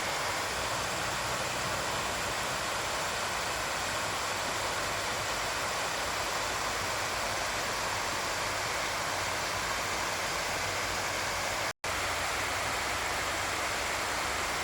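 Water pours over the Krai Phakdi overflow weir damming the Huai Haet creek in Sisaket, a loud, continuous broadband rush that holds steady throughout with a momentary dropout near the end.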